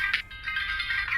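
A phone ringtone plays as a short, bright electronic tone that pulses in quick repeated bursts. It is moderately loud and close, with a low hum underneath and no talking.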